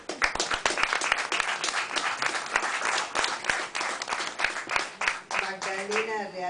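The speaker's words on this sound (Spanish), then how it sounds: "Un aplauso." Audience applause at a literary café and arts space in San Telmo, a dense round of clapping from a small crowd heard up close, with a voice speaking over the final second.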